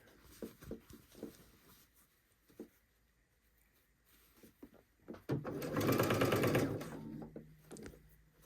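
A sewing machine stitching a suit jacket sleeve whirs in one quick, loud burst of rapid needle strokes lasting about two seconds. Quieter handling taps and rustles of fabric come before it.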